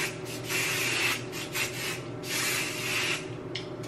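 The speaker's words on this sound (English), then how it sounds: "I'm gonna spray them" Several bursts of hissing hair spray onto hot sticks in hair, each lasting under a second, separated by short pauses over a steady low hum.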